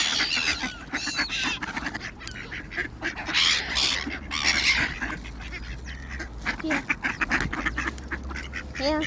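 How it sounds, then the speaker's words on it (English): Ducks and geese quacking and honking in a busy flock while being fed bread outdoors, with seagulls and swans around, a continuous close chorus of overlapping calls and splashy activity. "giving the ducks one whole sliced bread"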